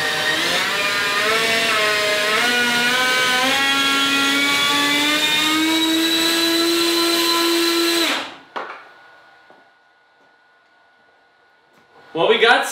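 Electric ducted fan on a jet-powered scooter spun up to maximum throttle, a loud close whine climbing steadily in pitch for about eight seconds before cutting out abruptly, followed by quiet and a short burst of noise at the end.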